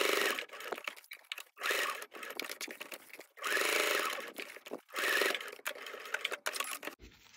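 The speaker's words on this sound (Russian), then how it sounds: "И далее прокладываем строчку по периметру рамки." Sewing machine stitching around a buttonhole frame on a quilted jacket, with bursts of rapid close needle chatter separated by short pauses.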